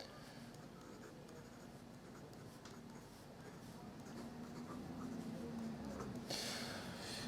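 A Pilot Falcon fountain pen writing on paper, a faint, continuous scratchy rasp of nib on the page that swells slightly toward the end, with a brief brighter stroke near the finish.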